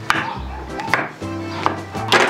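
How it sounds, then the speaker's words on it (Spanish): Knife chopping portabello mushrooms on a board: a few sharp, close chops spaced about every half second, with a low hum underneath. "mientras vamos a cortar nuestros hongos"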